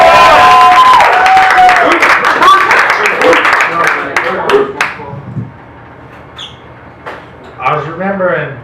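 A comedy-club audience at the Anchor Bar applauds and cheers for a comedian: loud clapping and crowd noise at first, fading away as a voice speaks.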